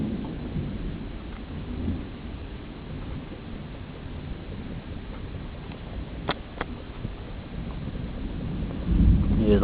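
A summer thunderstorm rolls through at night, with steady rain hissing and pattering while low thunder rumbles, swelling loudest toward the end; a couple of faint sharp clicks break in midway.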